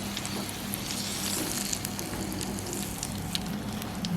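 Cuttlefish pieces fry in hot oil, a dense continuous crackling sizzle with fine popping bubbles, steady and moderately quiet, with no voices.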